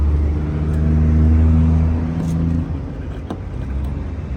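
Car cruising on an open road trip with the windows down, a steady low engine and road drone with strong rumble, loud and close, easing off slightly partway through, with no talk.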